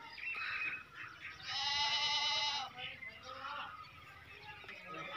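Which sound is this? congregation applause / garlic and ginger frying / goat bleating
goat bleating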